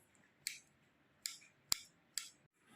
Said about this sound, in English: Now let's cut the banana.